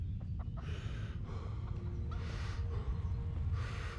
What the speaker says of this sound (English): Got chickens.